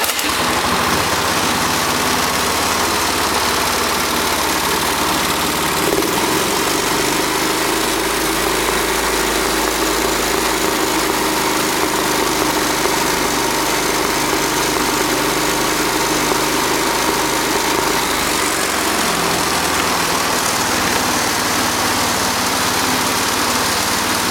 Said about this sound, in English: We'll flip it to sprint kart mode, and we'll start it up.